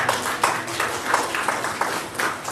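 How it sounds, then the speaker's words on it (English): A temple congregation at a Buddhist Sunday service applauds a lunch sponsor, steady, moderately loud clapping from a small crowd with a soft, even rhythm throughout. "can we give her a round of applause?"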